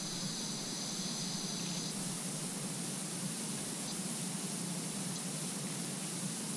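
Pressure washer spraying a barn roof in the video game PowerWash Simulator 2: a constant, dense hiss of water jet that runs unbroken and even throughout, with no speech.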